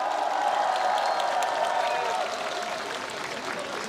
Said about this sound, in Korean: 우리 정경 총괄선거대책위원장님께 다시 한번 큰 박수 부탁드립니다.